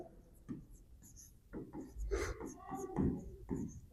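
A pen writes out prime factors by hand on paper during a Class 10 maths revision lesson, with soft, close scratching strokes coming in short irregular bursts.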